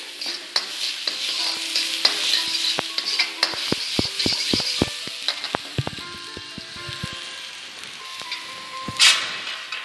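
Finely chopped onion with ginger sizzles in a pan while a spoon stirs it, with many sharp clicks and taps of utensil on metal over a steady frying hiss, busiest in the middle.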